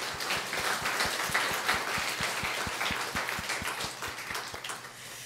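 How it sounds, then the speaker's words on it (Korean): A church congregation claps in unison for retiring elders at a Sunday service, a rhythmic, evenly spaced beat of hand claps over a soft wash of scattered applause, lasting about five seconds and gradually easing. "그동안 수고 많이 하셨다 해서 한번 박수하겠습니다."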